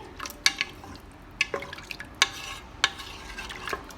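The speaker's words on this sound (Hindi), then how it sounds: "अच्छे से इसको आप हिला लीजिए" A spoon scrapes and clinks against a metal pressure cooker a few times while stirring beef, with wet stirring sounds between the knocks; close and fairly quiet, no voices.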